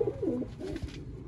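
A Sialkoti pigeon coos up close, a soft rolling burble repeated a couple of times in a brief quiet moment.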